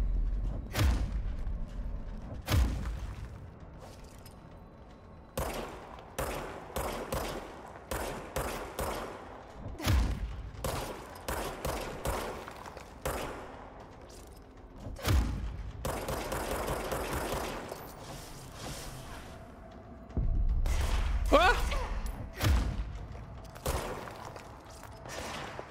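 Enemy gunfire in the video game Control, repeated bursts of shots and rattling volleys, loud and close, with a few booming impacts and no talk over it.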